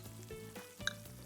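Diced onions, cherry tomatoes and olives sizzle in olive oil in a pan, a soft, steady frying hiss with one brief clink partway through and no speech.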